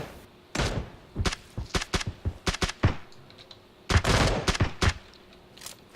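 Bursts of gunfire in an online battle royale shooter, a few scattered single shots followed by quick rapid volleys, loud and close with no talking over them.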